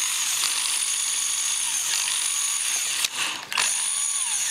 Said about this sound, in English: see how well the drill works off this power supply